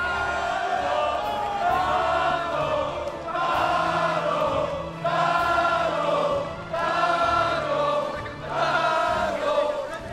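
A large esports crowd at Red Bull Wololo, an Age of Empires event, chants and roars in rising and falling waves, loud and sustained, with rhythmic swells every couple of seconds.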